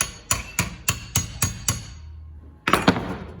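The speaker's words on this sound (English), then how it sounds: "just cutting through the brass down deep enough so that I can get a chisel under it" A chisel struck with a hammer to work brass free from a die-cast piece, six sharp, evenly spaced metallic blows, then a pause and two more close impacts, heard nearby with no talk.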